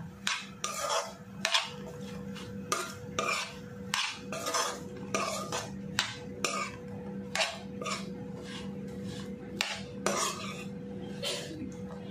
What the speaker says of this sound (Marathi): आता ही मस्तपैकी सगळी मिक्स करून घेऊया।